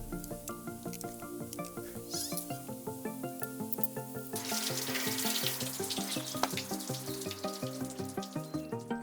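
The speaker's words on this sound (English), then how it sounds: "the entire panel is thoroughly washed with warm water and soap." Warm soapy water runs and splashes while the panel of a 1989 Roland D5 synthesizer is washed, the water swelling louder partway through over steady background music.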